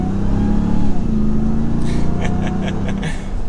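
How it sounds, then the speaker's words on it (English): A 2023 RAM TRX pickup with its V8 engine accelerating, heard from inside the cab as a loud, deep steady engine drone with some higher rattling bursts toward the end. "instantly the V8. This thing is quick. You put your foot on the gas just a little bit and it moves."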